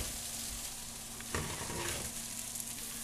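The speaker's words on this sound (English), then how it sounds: "we're going to let this cook for about 10 minutes until all the vegetables are soft" Chopped vegetables for tomato soup cook in a pot over medium-high heat with a steady soft sizzle and faint bubbling, and a brief stir or clatter partway through.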